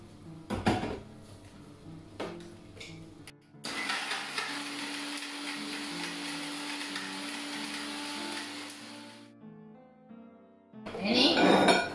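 A mixer grinder whirs loudly for several seconds, grinding tamarind and chopped onion for sambol in a home kitchen. Clattering handling sounds come before it, a brief louder rattle follows, and no one speaks.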